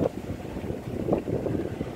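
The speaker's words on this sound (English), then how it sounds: "Quite windy again," Gusty wind buffets the microphone outdoors, a continuous low rumbling roar with brief stronger surges.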